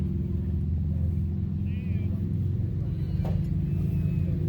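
A big-block Chevy drag car engine runs with a loud, steady low rumble that stays constant throughout, with faint voices barely audible beneath it.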